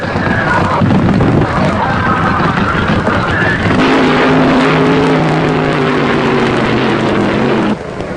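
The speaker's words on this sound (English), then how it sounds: "In the final go for funny cars, it's Gene Snow's Dodge meeting up with Ben Griffin's Plymouth-powered Ford Mustang." Funny-car drag racing: Gene Snow's Dodge against Ben Griffin's Plymouth-powered Ford Mustang, their engines making a loud, continuous, raw roar that surges and crackles for several seconds before cutting down near the end.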